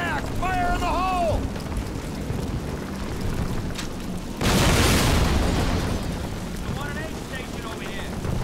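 A large explosive charge detonates in Call of Duty with a heavy rumbling boom that rolls out for several seconds, preceded and followed by shouted voices amid battlefield noise.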